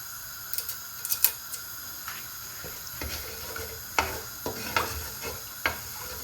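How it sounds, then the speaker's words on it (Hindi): Whole spices and two bay leaves frying lightly in oil for a kofta meatball curry: a soft, close sizzle broken by sharp clinks and scrapes of a spoon against the pan, with no voices. "हल्का सा इसको ऑयल के अंदर फ्राई कर लेंगे"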